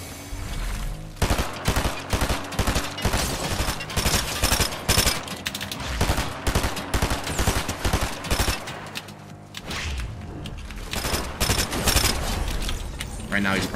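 Rapid bursts of submachine gunfire from two burst SMGs in Fortnite, zero build ranked solo, crackling in quick repeated volleys nearly nonstop and loud, mixed with game effects and with talk over them.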